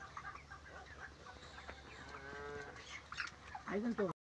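Chickens on a poultry farm with stand fans and water tanks, clucking and calling amid cattle mooing and general farmyard noise, with a louder burst of calls near the end.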